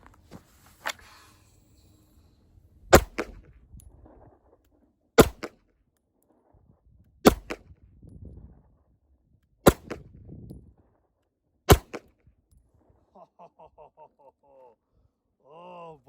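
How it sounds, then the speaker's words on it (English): Five sharp pistol shots fired one-handed at a shooting range, loud and well spaced about two seconds apart, with talk and rustling between them and a few faint electronic beeps at the end. "I'm going to draw and fire 5 rounds, okay?"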